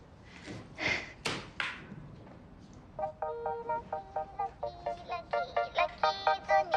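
A few soft knocks and thumps lead into a mobile phone ringtone, a quick melodic run of bright beeps that repeats several times and grows slightly louder near the end.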